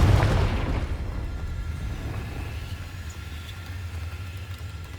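Confringo fire spell blast in the video game Hogwarts Legacy, a loud booming burst at the start that fades into a long low rumbling tail.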